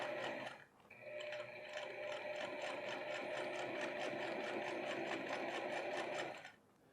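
A sewing machine runs steadily for about six seconds, stitching down the hem of a pair of men's trousers, with a rapid even mechanical chatter that starts and stops cleanly and no talking.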